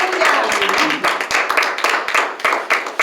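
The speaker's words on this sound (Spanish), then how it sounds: "Den un fuerte aplauso al Señor." A church congregation claps together in praise, a dense, lively burst of applause filling the room with rapid overlapping hand claps for about three seconds.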